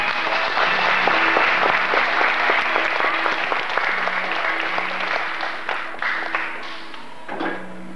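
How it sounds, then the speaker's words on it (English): An audience at a 1988 Christmas school show by a singing group claps in a loud, dense burst of applause that slowly thins and fades toward the end, with a faint voice beneath it. "a big round of applause"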